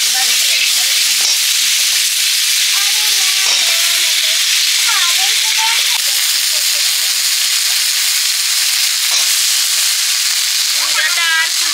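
Mung lentils sizzle and fry loudly in a very hot wok, a steady bright hiss with clinks and scrapes of stirring throughout.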